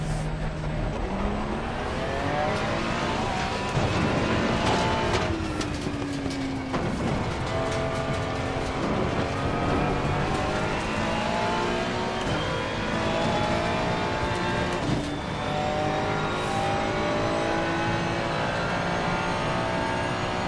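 A race car laps Spa-Francorchamps in a racing video game, its engine whining and shifting through rising and falling revs, steady and loud throughout with gear changes around the middle.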